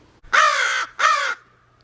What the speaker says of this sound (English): But Jerry was really cawing.